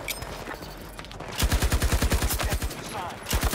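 An RPT-31 light machine gun firing in Battlefield 2042, close rapid bursts of evenly spaced shots over steady game background noise, with a short pause between bursts.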